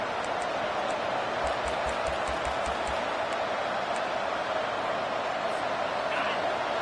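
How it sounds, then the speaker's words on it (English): A football stadium crowd roars steadily for the home defense, a dense, sustained wash of cheering that fills the space evenly throughout. "Listen to this crowd just shaking the girders of this place, trying to help their defense"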